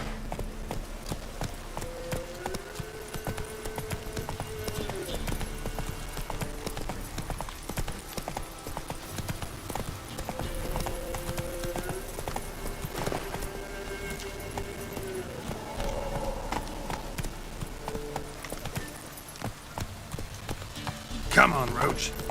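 Roach, a horse in The Witcher 3, gallops with rapid rhythmic hoofbeats at a steady pace under game music, with a brief louder burst near the end.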